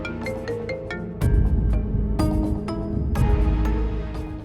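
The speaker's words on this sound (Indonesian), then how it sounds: "akhirnya nelpon juga nih orang" A phone rings with an incoming call, a melodic electronic ringtone playing a sequence of bright tones that swells louder after the first second and continues alone without talk.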